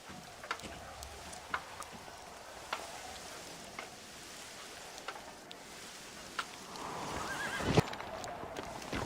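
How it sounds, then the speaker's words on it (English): Horses in the Red Dead Redemption video game whinny and clop their hooves on a street, with several sharp hoof knocks spaced through a steady ambient bed and a louder neigh near the end. "You see those horses to the left by the building across the street? Dutch's boys hitched them there."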